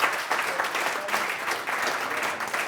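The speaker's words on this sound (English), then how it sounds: "I think let's give a really great applause to Nick Pinkston." Audience applause after a talk on hardware at an evening event, a steady, full crowd clapping throughout at moderate volume with no pauses.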